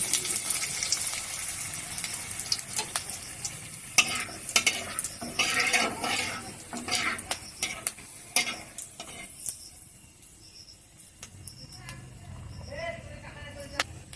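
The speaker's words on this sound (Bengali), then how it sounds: "তেল গরম হয়ে গেছে, এবার দিয়ে দেবো শুকনো লঙ্কা কেটে" Dried red chillies sizzle and crackle in hot oil in a village kitchen, with frequent clattering stirs of a utensil against the pan before the frying settles into a softer hiss.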